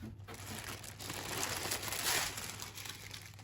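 Bloomingdale's paper crinkling and rustling while a Marc Jacobs medium tote bag is unboxed, a steady close handling noise that swells in the middle over a low background hum.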